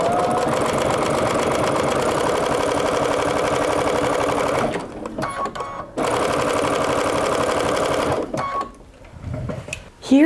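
Sewing machine running steadily while stitching the pinned corners of a fleece travel blanket, a loud continuous whirring that stops abruptly, then gives short bursts and brief pauses toward the end.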